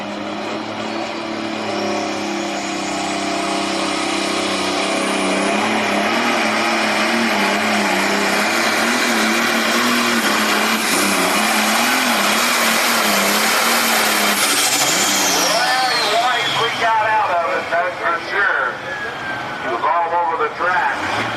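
A pulling truck at a truck and tractor pull roars at full throttle, a sustained loud engine howl with rising and wavering pitch that breaks into choppy revs near the end, with an announcer's voice over the outdoor event.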